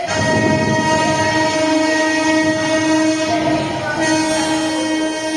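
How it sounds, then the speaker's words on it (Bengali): A moving train with a sustained horn, used as a sound effect in a Bengali science stage drama; the loud steady rumble and tonal horn blast run continuously throughout, with no talking. "চলন্ত ট্রেনের"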